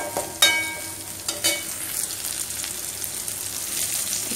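Onion and curry leaves frying in hot oil, a steady close sizzle with a few sharp pops and crackles near the start, heard alone with no talk.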